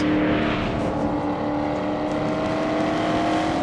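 A Corvette C7 Stingray sports car is driven hard through corners, its engine a steady, loud, close drone with a sustained tonal whine and tire and road rumble beneath, no voices over it.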